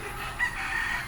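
Farmyard chickens at a hut, including a hen with chicks, clucking steadily and close by with some crowing-like calls, continuous over low outdoor background without speech.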